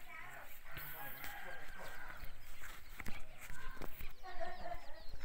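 Chickens on a farm, with hens clucking and a rooster crowing, sound near and fairly loud under continuous talking in the foreground throughout.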